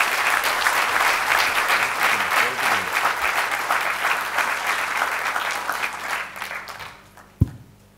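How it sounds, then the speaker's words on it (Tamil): An audience at a Tamil debate show bursts into loud, sustained applause that gradually fades out near the end, followed by a single sharp thump. "ஒரு கைத்தட்டல் கொடுத்தனவர்."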